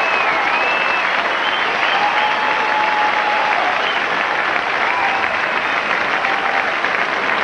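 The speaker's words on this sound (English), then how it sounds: "And a well-deserved round of applause" A tennis stadium crowd at the 1992 US Open erupts in loud, continuous applause after Pete Sampras wins match point against Martin, a thick roar of clapping with faint cheering running unbroken throughout.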